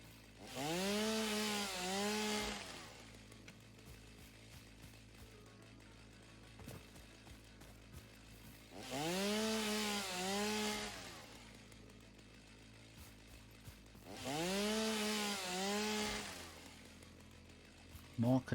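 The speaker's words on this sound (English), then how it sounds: "Was that the chainsaw turning off?" A chainsaw in the video game Satisfactory cuts in three separate bursts, each revving up with a loud buzzing whine and then dropping away, with quieter gaps between them.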